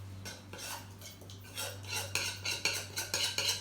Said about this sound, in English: So I'm going to put the rest of the stuffing in there.